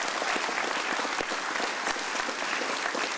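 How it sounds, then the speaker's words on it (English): An audience applauds the state governor at an energy company announcement, steady full-room clapping that runs throughout at even strength with no speech on top. "giving the governor of this great state a great round of applause for his leadership"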